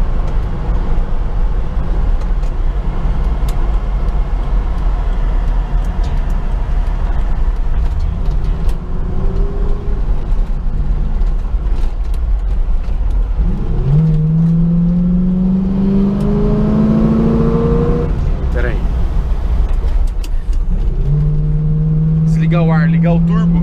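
A 1975 Pontiac Firebird engine rumbles steadily while driving, with two distinct pulls where the revs climb in rising sweeps before easing off, heard from inside the car with people talking over it.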